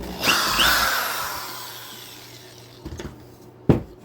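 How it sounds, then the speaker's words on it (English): A power drill whirs briefly into hard fiberglass near the start, then fades, followed by a few short knocks and a sharp burst near the end. "It is kind of hard to drill out because it just kind of grabs."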